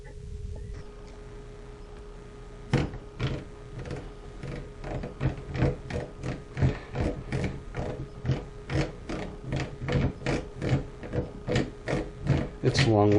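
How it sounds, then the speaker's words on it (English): A screw is worked loose on a Mossberg Maverick 88 shotgun during field stripping, giving a fast, steady run of close, ratchet-like clicks with a faint background hum. "we're going to go down here to this screw and we're going to start screwing it out"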